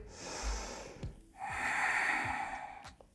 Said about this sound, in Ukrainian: І заключний глибокий вдих